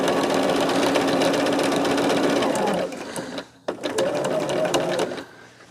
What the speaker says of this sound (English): We have to make sure not to sew our hangers up in this.